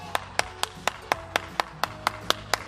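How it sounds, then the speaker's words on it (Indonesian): Children clap for Super Kid during an online Sunday kids' church service: a steady, even run of about a dozen sharp, crisp claps at a brisk pace, close and clear with no talking. "tepuk tangan dulu dong buat Super Kid"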